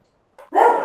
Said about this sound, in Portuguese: Deixa eu sair aqui que o cachorro começou a latir.